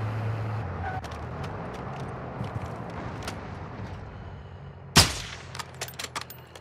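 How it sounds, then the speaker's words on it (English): Gunfire in the video game DMZ crackles faintly in the distance under a steady low rumble, then one loud sharp shot rings out close by, followed by a few scattered smaller pops. "Lots of gunfire over there."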